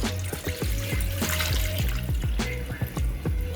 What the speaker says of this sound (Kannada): ಈಗ ನೀರು ಹಾಕತ್ತೀನಿ